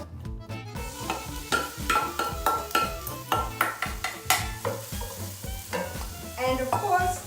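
Onion and garlic sizzle in olive oil in a pan for ratatouille, with steady frying crackle and repeated stirring scrapes and clinks in an uneven rhythm, close and fairly loud, with no talk.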